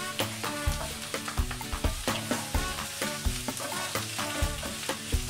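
Zucchini sautés in a pan over medium heat, a loud, close sizzle broken by frequent rhythmic scraping and clinking of a utensil as the pieces are stirred. No voices are heard.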